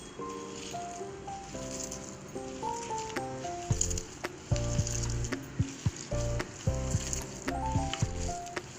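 Muthi kabab mixture is mixed and fried in a pan, with rattling, knocking strokes and clatter over a low sizzle, getting busier and more rhythmic toward the end.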